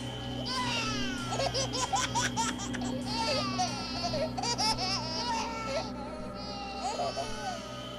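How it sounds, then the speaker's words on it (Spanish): Babies cry and laugh together in an eerie horror-story sound effect, with repeated wavering infant wails and giggles overlapping in bursts across the clip, fairly quiet but clear, without other speech. "Irene empezó a escuchar llantos, y risas de bebés en su casa"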